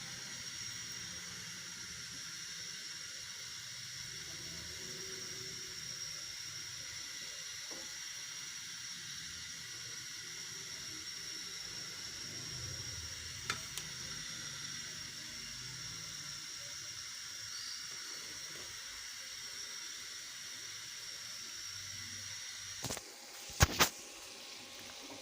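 Chicken bites fry in hot oil with a faint, steady sizzling hiss that continues unbroken for a long stretch, followed by a few sharp clicks near the end.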